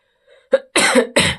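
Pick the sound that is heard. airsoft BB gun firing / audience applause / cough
cough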